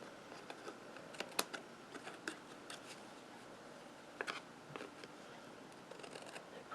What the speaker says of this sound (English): We're going to clip off all this edge that's hanging off.